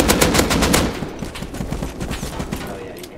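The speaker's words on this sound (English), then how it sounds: "I got a new pistol. I'm going to shoot it in the house." Gold pistol fired in Rust inside a house, a loud fast burst of close shots in the first second, followed by quieter rapid popping and clatter.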